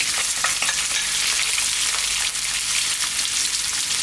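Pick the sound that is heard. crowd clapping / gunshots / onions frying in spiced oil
onions frying in spiced oil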